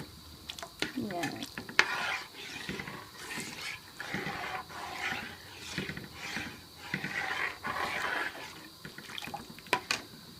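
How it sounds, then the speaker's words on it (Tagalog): A spoon stirs lumpiang ubod sauce in a pan as it thickens, giving repeated soft scraping and clinking strokes in an uneven rhythm, close up and fairly quiet. "Haluin lang natin hanggang sa mag-thick siya."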